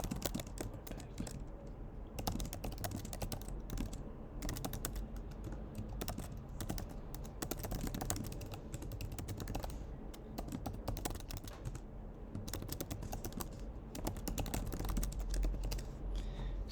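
Rapid typing on a computer keyboard, a dense stream of soft close key clicks running continuously at low level, with no speech.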